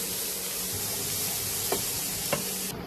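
Chopped carrots fry in a pan for chicken fried rice, giving a steady, close sizzling hiss with two faint scrapes of stirring.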